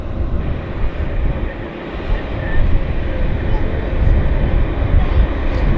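An American Airlines Boeing 737 MAX 8 at Vancouver Airport gives off a steady, broad jet rumble that swells slightly and holds, with a voice talking over it.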